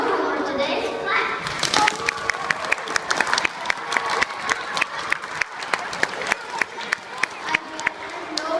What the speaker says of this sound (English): If you agree with having no homework today, clap.